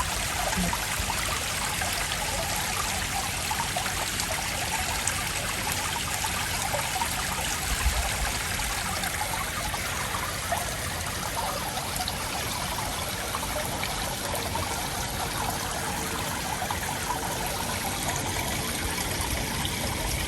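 Water trickles steadily into a garden pond in the evening, a continuous close splashing babble that holds the same level throughout with no voices.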